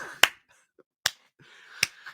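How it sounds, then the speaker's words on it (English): Three slow, crisp golf claps sound alone at even intervals, sharp and close with quiet gaps between them, a deliberate, unhurried clap. "Golf clap for getting that right."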